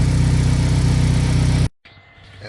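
A repaired 2006 Chevy HHR engine runs loud and steady at idle for about a second and a half, then cuts off abruptly; after a brief gap, fainter, thinner mechanical noise follows.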